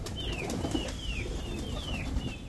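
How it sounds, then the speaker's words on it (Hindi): Pigeons flap their wings in restless bursts while thin, repeated whistling bird calls sound throughout, a busy, continuous aviary din. "मुझे देख के सारे कबूतर जो है ना वो फड़फड़ा के रेडी हो रहे हैं"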